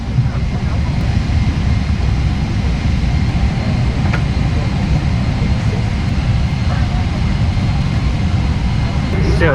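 Steady, loud low engine drone fills an airplane cabin on a family flight to Russia, an even roar running unbroken throughout with faint voices murmuring beneath it.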